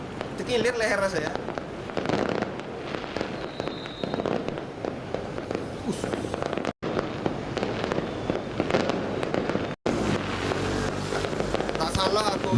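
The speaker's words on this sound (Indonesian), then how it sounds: "pesta kembang api dan petasan" Fireworks and firecrackers go off at a Chinese New Year celebration in Selatpanjang, Indonesia, in 2023. Dense, loud crackling and booming runs almost continuously, with voices faintly in the background.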